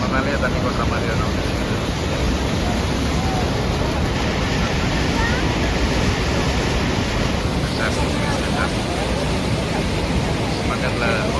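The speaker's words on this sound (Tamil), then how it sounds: "நேர் எதிரில் உள்பக்கம் நம்ம மேலேயே தண்ணி கொட்டுற மாதிரி இடம்." Niagara Falls roars from aboard the Maid of the Mist boat: a dense, unbroken wall of crashing water and wind buffeting the microphone, loud and steady throughout with no pauses.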